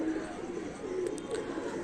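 Kalpare pigeons of the Shahjahanpuri breed coo in low, throaty, rolling calls close by, with soft voices faintly in the background.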